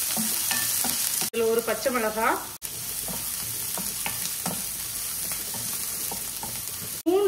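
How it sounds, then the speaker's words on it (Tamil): Sliced onion sizzles steadily in hot oil with mustard seeds, urad dal and curry leaves for a snake gourd poriyal, with a brief spoken phrase and a few stirring scrapes over the constant frying hiss. "இந்த வெங்காயம் கொஞ்சம் வதங்கட்டும்."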